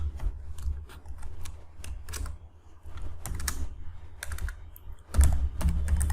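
Rapid clatter of keys as code is typed on a computer keyboard, irregular bursts of keystrokes close by with brief pauses, no talking over it.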